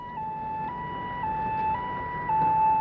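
A Korean ambulance siren on a rescue call sounds a steady, repeating electronic tone in short cycles, moderately loud and slightly distant, with no voices.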